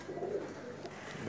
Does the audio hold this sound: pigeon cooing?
yes